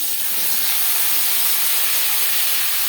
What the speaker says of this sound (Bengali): মাছ ভেজে নেওয়া কড়াইতে আবারও তেল দিয়েছি। এবার দিয়ে দেবো আলু।